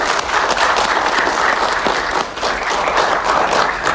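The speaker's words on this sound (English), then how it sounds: "Can we just give them a nice warm round of applause, though, for all of our city workers?" A crowd at a press conference about an extreme heat watch gives a warm, loud round of applause for city workers. The clapping stays full and continuous throughout, with no speech over it.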